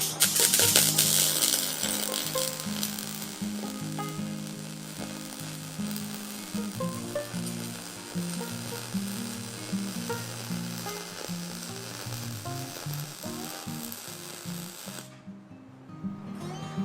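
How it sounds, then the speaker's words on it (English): A wire welder lays a steady, close, continuous sizzle and crackle like bacon frying in a pan, running unbroken for about fifteen seconds before cutting off abruptly. "they say it sounds like bacon sizzling in a pan"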